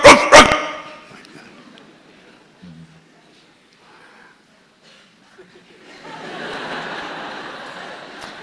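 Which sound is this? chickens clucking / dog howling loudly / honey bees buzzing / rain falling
dog howling loudly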